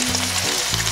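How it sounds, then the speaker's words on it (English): Gurnard fillets topped with basil, garlic and ginger fry in a pan, giving a steady close sizzle that runs without a break and with no talk. "We're going to give this about 7 to 8 minutes in the pan."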